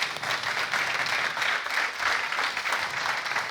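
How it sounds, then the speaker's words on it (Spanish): An audience applauding at a cycling event presentation, steady dense clapping from a crowd that lasts throughout at a moderate level. "Així tenim un aplaudiment per a ells"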